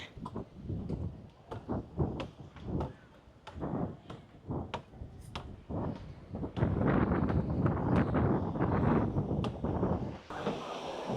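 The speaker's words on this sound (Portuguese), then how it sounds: "Tá ventando pra caramba." Strong wind gusting on a beach at Arraial do Cabo, Brazil, roaring and buffeting the microphone in uneven bursts that swell to a continuous rush, loud and close.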